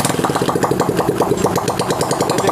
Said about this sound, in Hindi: तो देखिए बाइक हमारी स्टार्ट हो गई है।